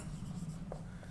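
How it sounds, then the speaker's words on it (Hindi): Chalk or marker scratching on a board during a maths lecture on countable sets, a faint continuous rubbing stroke close by with a low hum underneath and no speech. "चलो एक बार लिख दिया जाए"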